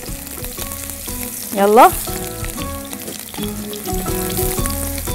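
Eggplant fries in a pan, giving a loud, steady sizzle close by with a brief burst of spattering as pieces go into the oil. A short spoken word is heard over it.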